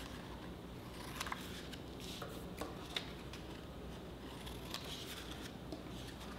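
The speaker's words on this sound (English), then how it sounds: "So again, we're gonna cut those corners." Bookbinding material has its corners cut in a quiet workshop, giving faint, scattered snips and crisp clicks over a low, steady background hum, with no voices.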